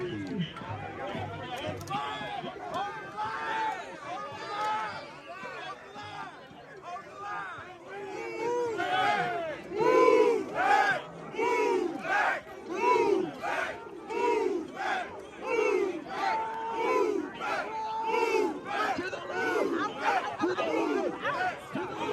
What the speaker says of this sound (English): a huge fight breaking out after the Antifa crowd tried to go through the Chicago police line